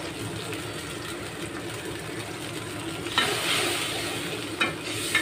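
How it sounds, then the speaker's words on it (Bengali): Spice paste of turmeric, chilli and coriander powders frying in a pan while being stirred, a continuous close sizzle with a few louder scraping strokes. "এখন ওই মশলাটাকে ভালো করে কষাবো"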